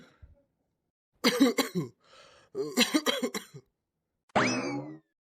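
A cartoon character coughs and clears the throat in several harsh, rough bursts close up, followed by a short springy sound effect, with no talk.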